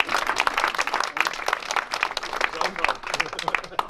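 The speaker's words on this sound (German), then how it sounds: "Herzlich willkommen, mit Applaus natürlich." At a conference in Arnoldstein, an audience applauds to welcome a guest, with bursts of clapping that swell and dip, fairly close and lively, with some voices mixed in.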